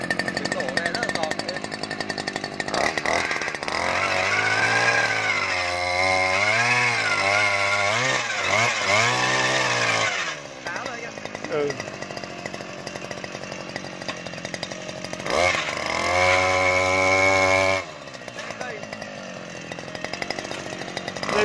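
A small petrol engine on a Zongshen G45 earth auger drilling into a hillside runs loudly and roughly throughout, revving up strongly twice with a rising, buzzing whine before settling back.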